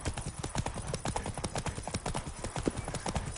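Hooves of the horse Roach clip-clop steadily in The Witcher 3 game, an even walking rhythm of close, moderately loud hoofbeats with no talking.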